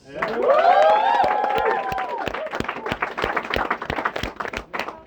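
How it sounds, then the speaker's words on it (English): A small audience at a live poetry show in Cafe Kerouac on the Ohio State campus cheers with rising whoops, then claps in a loose, irregular patter that gradually thins near the end. "Then let's give the clap for Travis"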